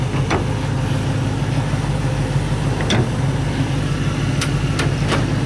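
A 1970 Ford Mustang Mach 1 V8 idles steadily at close range with its hood open, a smooth low rumble holding an even rhythm throughout with a few faint clicks on top.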